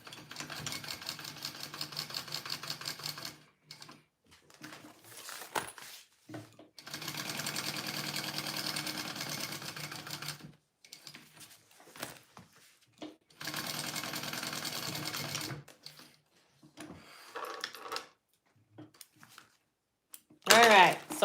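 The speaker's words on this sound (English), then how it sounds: "I'm going to baste all these pieces together." A sewing machine basting together fabric pieces of a bowler bag, running in several bursts of rapid stitching separated by pauses, with a person talking between runs.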